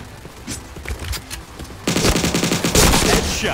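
Rapid automatic gunfire in the shooter Point Blank crackles in quick bursts, sparse and lighter at first, then a dense, loud, rhythmic stream of shots in the second half.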